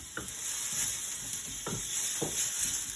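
Scallion whites hit hot oil in a Chinese spicy and sour stir fry, a steady close sizzle with a few soft scraping stirs of the spatula.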